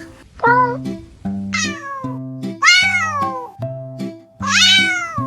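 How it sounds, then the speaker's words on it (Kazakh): A cat meows five times in a row, each call loud, close and drawn out with a rising then falling pitch, separated by short pauses. "мысық қандай дыбыс шығарады?"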